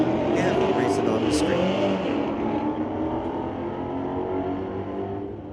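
Street-legal drag race cars tear down the strip at Mission Raceway Park, a loud, steady engine roar holding throughout with a faint announcer's voice beneath.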